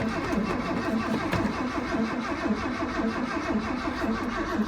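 The engine of a 1979 Ford F150 cranks over and over on a cold start, a steady rhythmic churning that runs loud and continuous through the whole stretch.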